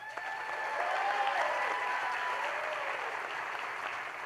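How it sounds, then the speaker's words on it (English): Audience at a Poudre School District student recognition event applauds in a sustained, even round of clapping with a few faint whistles or cheers over it. "Let's give them all one more big round of applause."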